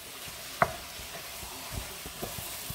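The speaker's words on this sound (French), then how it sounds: "nous faisons revenir nos morceaux de viande" Pieces of meat browning in a pan give a soft, steady sizzle, broken by occasional light clicks of a utensil stirring them, with no talk.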